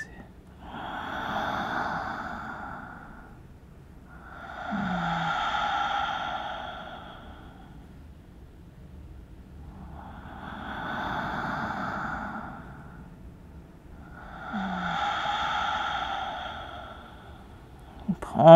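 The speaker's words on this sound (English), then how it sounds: "Two more long cycles of breath," Four slow, deep breaths during a vinyasa yoga flow, each a long audible inhale and exhale repeating in an even rhythm, close and moderately loud with quiet pauses between.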